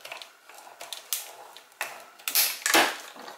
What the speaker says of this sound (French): Je vais tout passer hop, dans ma machine de découpe